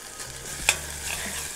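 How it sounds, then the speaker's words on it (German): Onions frying in a pan with a little salt give a soft steady sizzle, with one sharp clink of the stirring utensil partway through. "Jetzt habe ich gerade ein bisschen Salz dazu gegeben und schaue, dass ich hier die Zwiebeln einfach gut ein bisschen anbrate."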